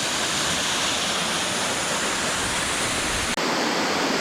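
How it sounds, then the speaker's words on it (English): A waterfall on a mountain trail gives a constant, full rushing hiss of falling water, heard close and steady with no other sounds over it. "And another waterfall. There are a lot of waterfalls on this trail"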